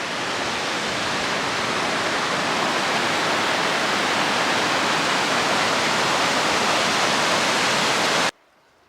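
Loud, steady rushing of Chips Creek flowing nonstop under a bridge on the Pacific Crest Trail, a dense even wash of water that cuts off abruptly near the end.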